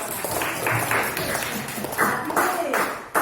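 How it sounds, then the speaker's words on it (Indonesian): Bursts of clapping from a group of children in a classroom lesson break out repeatedly over a noisy room, mixed with chatter and scattered voices. "tepuk tangan anak-anak"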